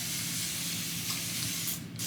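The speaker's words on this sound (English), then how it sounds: "So first we are going to take the spray bottle." A spray bottle mists water onto hair to dampen it before detangling for three-strand twists, giving a steady close hiss of spray that fades near the end.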